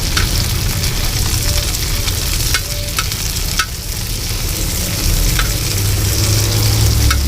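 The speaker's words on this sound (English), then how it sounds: "You can see it's starting to fry nicely." Radish greens sizzle loudly in a pan with frying onion and garlic, a steady close crackle with a few sharp utensil taps and scrapes as they are stirred.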